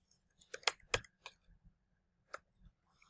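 Quiet keyboard typing, a handful of light clicks in two short bursts with a gap between, close and alone with no talk.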